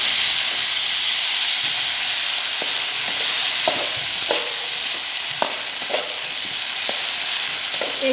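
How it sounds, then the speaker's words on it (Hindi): Chopped tomatoes fry in a pan for a potato curry, giving a loud, continuous hissing sizzle with small scraping taps from a spoon stirring at an irregular pace. "टमाटर को अच्छे से मिक्स कर लेंगे।"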